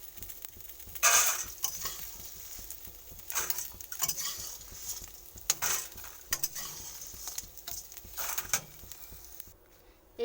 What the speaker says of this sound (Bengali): দেখুন আমার মাছের আঁশগুলো ভাজা হয়ে গেছে, কত কমে গেছে দেখুন